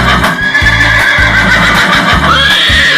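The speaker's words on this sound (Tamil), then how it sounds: "இது குதிரையோட சத்தம் குழந்தைகளா" A horse neighs loudly and close, a shrill whinny rising and falling over about three seconds, with no talking.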